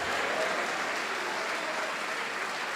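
A church congregation applauds in praise, a dense, steady wash of many hands clapping together that fills the room evenly from start to finish with no voices rising above it.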